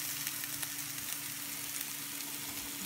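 Chicken with garam masala powder frying in a hot pan gives a steady, dense sizzle throughout, close and continuous with faint crackles, no voices.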